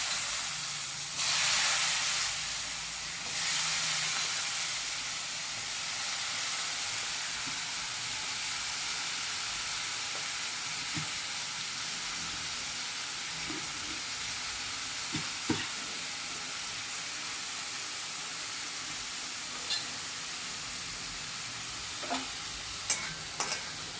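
Pumpkin pieces drop into a hot pan already seasoned with turmeric and red chilli for a Banarasi-style pumpkin sabzi, giving a steady close sizzle and hiss of frying throughout, with a few soft clicks of stirring near the end.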